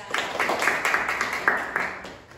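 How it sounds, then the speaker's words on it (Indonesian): A few hands clap in a quick, fairly close, steady patter for a presenter named Mbak Fisya, a small group rather than a large crowd, with no talking over it. "tepuk tangan dong buat Mbak Fisya"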